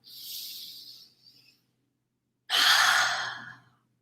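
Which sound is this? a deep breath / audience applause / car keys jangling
a deep breath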